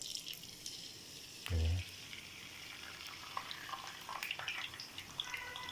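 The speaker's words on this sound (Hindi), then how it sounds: "अभी हम ना किस तरह समोसा पट्टी को फ्राई करते हैं आग के अंदर" Samosa pastry strips fry in hot oil with a soft, steady sizzling hiss. A brief low thump comes early, then scattered crackles and pops build up over the bubbling.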